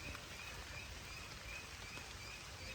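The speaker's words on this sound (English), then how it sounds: "it's raining a little bit" Light rain falling outdoors onto wet grass on a hot Fourth of July, a soft, even, steady hiss of drops with no pattering bursts, close and continuous.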